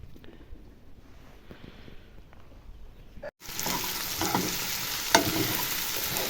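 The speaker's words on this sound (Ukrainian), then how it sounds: "Підсмажую цибульку, порізала напівкільцями." Onion cut into half-rings fries in a pan, starting as a quiet crackle and then jumping to a loud, close, continuous sizzle after a short break, with a sharp clink partway through.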